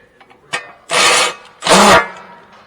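Two loud, close bursts of a ratchet wrench with a 10 mm socket working on a car's front strut, each about half a second of rapid clicking, with a few light knocks before them.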